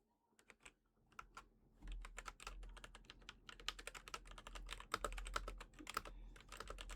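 A computer keyboard clatters in rapid, uneven bursts of typing, quiet and close, over a soft low hum.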